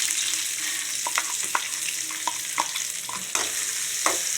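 Small onions frying in a pan for fish gravy, a steady soft sizzle with scattered scraping taps of a spoon stirring, close and fairly quiet.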